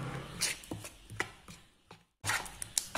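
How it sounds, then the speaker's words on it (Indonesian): Egg and cornstarch batter for a long-bean omelette is whisked by hand, a series of quick, close utensil taps and clinks against a bowl, with a short silent pause near the end. "kemudian kita aduk saja sampai benar-benar tercampur rata"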